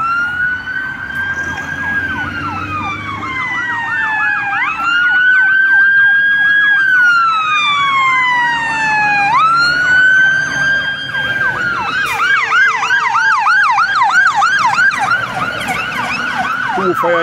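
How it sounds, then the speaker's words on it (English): Two fire engines pass at night in Luton, UK, their loud wailing sirens sweeping up and down and overlapping, close and rising into a rapid yelp pattern, with traffic rumble underneath. "Two fire engines going up there, I don't know where they're going."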